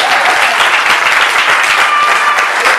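A church congregation applauds together, a dense, steady wash of many hands clapping that stays loud and even from start to finish, with no gaps or single claps standing out.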